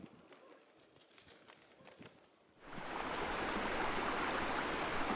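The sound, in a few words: Mesta River flowing at wild camp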